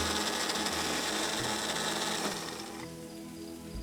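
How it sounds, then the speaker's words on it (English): A kitchen grinder whirs continuously while blending local greens into a smooth pesto paste, a steady motor drone that eases and softens toward the end. "You're just going to set this in the grinder and grind it. Now just let it run until it's a nice smooth paste."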